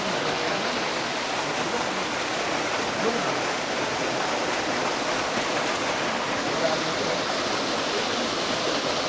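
Steady rushing river water near Hugasan Falls in Tagaytay, a broad continuous wash of flow with no breaks, moderately loud and fairly close.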